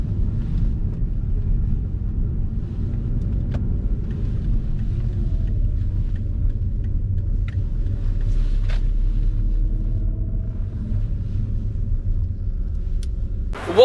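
A Mazda RX-8 with a manual gearbox is driven with the clutch in as gas is applied slowly, giving a low, steady engine rumble inside the cabin with a faint rising tone and no talk.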